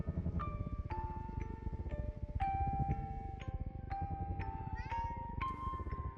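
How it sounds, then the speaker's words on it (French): A kitten in a video game trailer meows repeatedly, a string of short high mewing cries over a dense, loud musical bed of bells and chimes. "Je regarde le chat."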